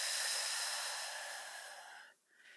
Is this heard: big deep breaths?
yes